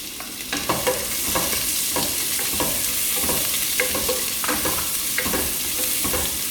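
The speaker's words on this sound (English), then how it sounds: "Allow the onion to fry nicely till it's nice and translucent." Sliced onion frying in hot oil for a prawn pulao, a continuous bright sizzle with frequent scraping spatula strokes in an uneven rhythm, close and steady, with no voices.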